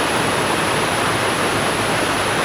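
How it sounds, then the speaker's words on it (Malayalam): A small forest stream flows steadily on a wooded hill road in monsoon season, giving a constant, close, full rushing wash of water with no break and no voices. "ഇത് ചെറിയൊരു തോട് ഈ ഭാഗത്തുനിന്നും ഒഴുകി വരുന്നുണ്ട്"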